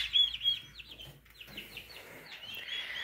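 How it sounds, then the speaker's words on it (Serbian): Five young domestic chicks chirping and peeping in quick repeated high calls, close and fairly soft, with a short pause midway. "5 pilića. 5 pilića njegovih domaćih."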